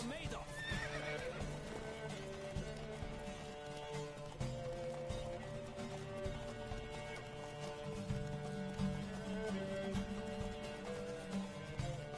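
Rapid hoofbeats of galloping horses over steady music in the video game Witcher 3, with a horse neighing, all loud and continuous.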